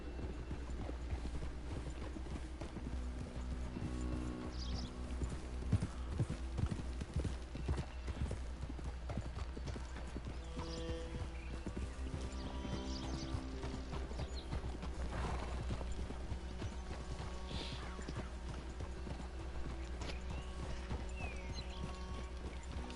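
Horse hooves clip-clop steadily during a ride in the video game Red Dead Redemption 2, a continuous rhythmic gallop with occasional neighs and snorts over a low background rumble, moderately close.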